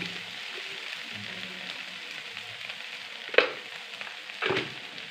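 Boiled potatoes fry with turmeric in a pan, giving a soft, steady sizzle with a couple of brief louder stirring scrapes near the end.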